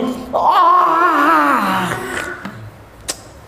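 A single loud, drawn-out voiced yawn whose pitch rises then slides down, fading out, followed by a brief click.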